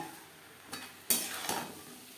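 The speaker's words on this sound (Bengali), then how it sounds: "থোড়ের সাথে মাছের মাথা বেশ ভালো করে মিক্সড করে দেব" Banana stem and fried fish head get mixed in a pan over medium flame, giving a few short stirring scrapes and a soft sizzle, fairly faint and close, with no speech.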